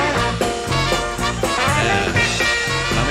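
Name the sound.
entrance theme music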